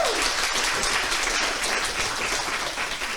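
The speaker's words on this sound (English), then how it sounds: "applause for Tobias" A conference audience at a plant-based event claps for a speaker, a dense, continuous round of applause heard throughout at moderate loudness, with no talk over it.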